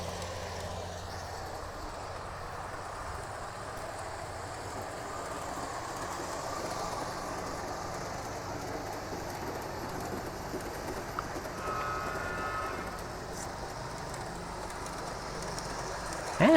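Model train rolling along an outdoor deck layout, a soft continuous rumble and hiss at moderate distance with birds faintly in the background.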